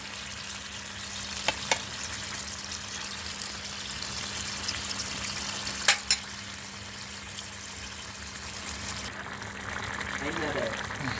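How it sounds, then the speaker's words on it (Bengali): Shrimp cooking down with onions in a pan for a dry bhuna, without any added water: a soft continuous sizzle with a few sharp stirring clacks, while a person talks over it. "এখন মাছটাকে আমি খুব ভালো করে পেঁয়াজের সাথে কষিয়ে শুকনো শুকনো করে নেব"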